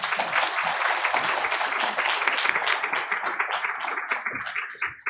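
A seated conference audience claps for the panelists in a sustained, dense round of applause, loud and steady throughout before thinning slightly at the very end.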